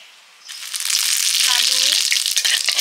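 Dry red chilies and bay leaves hit hot oil in a pan while cooking shukto, a Bengali vegetable dish, with a loud, steady sizzle that bursts in after a quiet start and keeps crackling throughout.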